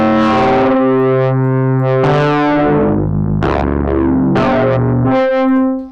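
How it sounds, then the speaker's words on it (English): Heavily distorted, pitch-shifted tones from the Psy Amp multi-effect plugin, a series of buzzing, harmonically rich notes jumping between pitches, loud and upfront with no talking. "you can get a really distorted and noisy kind of effect"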